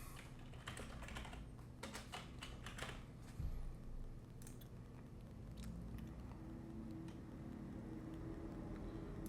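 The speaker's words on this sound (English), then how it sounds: "And then you type in your information" Fingers tap a computer keyboard while order details are entered on a card grading submission form, a quiet, close run of irregular key clicks with short pauses and a soft background hum.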